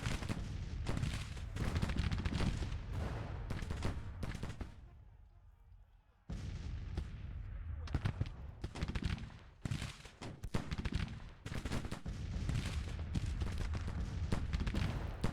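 Cannon and rifle fire from a Union army battle in Grand Tactician: The Civil War, a spring 1861 campaign, with dense rolling volleys and booms that thin briefly midway before resuming at full loudness.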